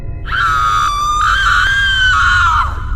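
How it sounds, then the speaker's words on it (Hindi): A single sustained high-pitched scream, loud and close, held for about two and a half seconds before trailing off. "तभी सामने से चीखने चिल्लाने की आवाज एक बार फिर से आने लगती है।"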